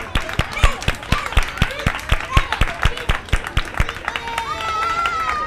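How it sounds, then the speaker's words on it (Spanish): An audience at a McDonald's game show claps along in a steady rhythmic beat, sharp regular hand claps with crowd chatter underneath, giving way to cheering voices near the end. "ese aplauso del público, señores."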